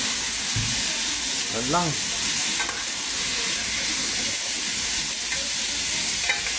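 Vegetables for ginataang gulay stirred around a pan, a steady sizzling hiss with scraping under it, and a person speaking briefly partway through.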